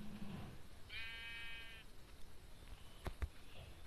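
A sheep in a video game gives one clear, drawn-out bleat, followed by a couple of sharp clicks against a quiet background.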